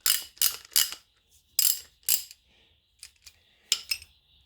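Bursts of dry metallic ratchet clicking from a Soviet-era Novosibirsk Tool Factory driver's socket set, close and quiet, in several short runs separated by brief pauses, with lighter isolated clicks in between.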